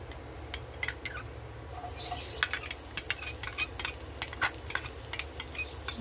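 Garlic frying in a pan for chicken pastil, a soft sizzle under repeated sharp scrapes and taps of a utensil stirring against the pan, quiet and close.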